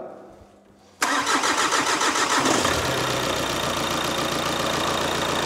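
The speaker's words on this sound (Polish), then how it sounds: "Pierwsze odpalenie po remoncie silnika. Palimy." After a short quiet moment, a VW Golf 2.0 GTD diesel engine cranks and catches abruptly on its first start after an engine rebuild, then settles into a loud, steady rattling idle.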